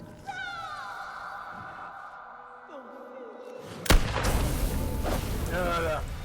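One sudden, loud gunshot from The Quarry video game breaks through quiet, tonal game sounds, then gives way to a dense, rumbling wash of noise.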